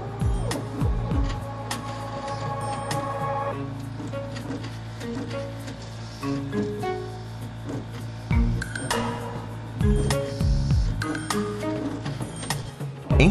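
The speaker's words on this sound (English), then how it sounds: "The DS2 even does serial dilutions, important for many research applications, pipetting, dispensing." DS2 automated ELISA processing system washing plates, giving a busy run of mechanical clinks, ticks and whirring motor sweeps with repeated sharp clicks, steady and close with no talk.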